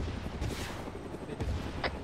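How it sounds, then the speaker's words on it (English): Explosions and gunfire in a military combat video game, a dense, continuous rumble of shots and blasts with a few sharper bursts standing out against the steady battle noise. "Explosions."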